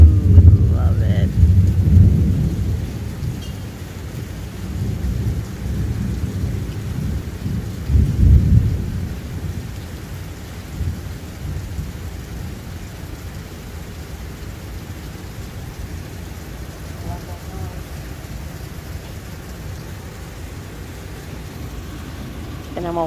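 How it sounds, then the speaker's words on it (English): Rain falls steadily while low thunder rumbles, strongest early on and fading to a softer wash of rain. "I love a summer thunderstorm."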